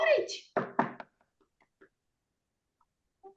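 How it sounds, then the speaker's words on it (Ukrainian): Knocking on a door: a few sharp, hollow raps in quick succession after a brief voice, then several fainter, scattered taps trailing off into near silence. "Стук у двері."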